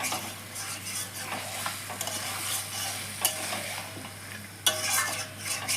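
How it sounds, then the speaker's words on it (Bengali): Chicken being stir-fried over a high flame, with a steady close sizzle broken by repeated scraping stirs and a few sharp utensil clinks against the pan, no voices. "এবার সুন্দরভাবে চিকেনটাকে মিশিয়ে দিয়ে হাই ফ্লেমে 5 মিনিট কষবো।"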